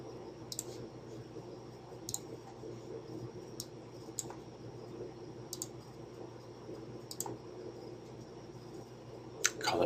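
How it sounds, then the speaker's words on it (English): Computer mouse clicking at a desk during hospital Cerner software work, a handful of faint, sharp, evenly spaced clicks over a low steady hum of background noise. "Pick that group by clicking in the box"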